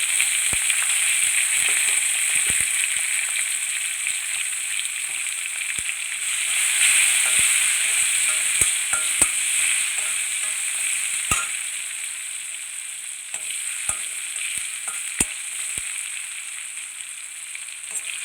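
Crushed garlic and asafoetida fry in hot oil with curry leaves, a steady bright sizzle broken by sharp crackles and pops, close and continuous throughout.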